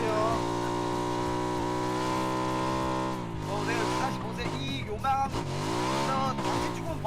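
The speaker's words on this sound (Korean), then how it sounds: "차소리 차소리 차소리 오른쪽." A car engine in the video game PUBG drones steadily, then revs up and down with rising and falling pitch, under faint background voices.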